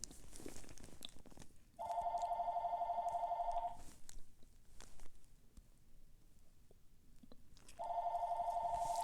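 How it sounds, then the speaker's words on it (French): An indoor telephone rings in two long electronic bursts separated by a pause, clear and fairly close against a quiet room. "excusez-moi, le téléphone."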